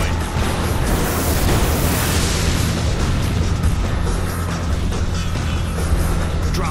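A loud, sustained roaring blast rumbles without pause as an enemy ship is destroyed in the video game Gun Metal, with dense low booms and crackling debris filling the whole stretch and no voices.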